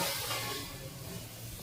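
Steam escapes from a covered kadhai of bitter gourd, green chillies and lemon cooking for pickle, a soft continuous broadband hiss that fades slightly over its short span.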